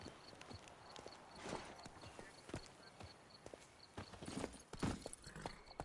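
Horse hooves clip-clop at a walking pace in The Witcher 3 video game, a quiet, uneven run of soft thuds over faint ambient noise.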